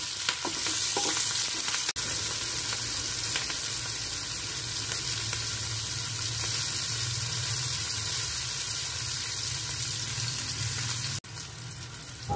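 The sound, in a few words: frying green chillies in mustard oil with asafoetida and nigella seeds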